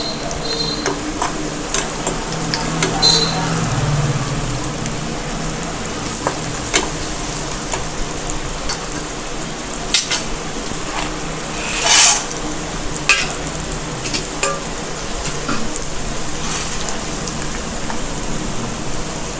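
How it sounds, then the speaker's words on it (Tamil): Sundakkai (turkey berries) sauté in oil in a pan with a steady, even sizzle like light rain, broken by occasional soft stirring scrapes, and no voices. "நல்லா எண்ணெயிலேயே வதக்கலாம்."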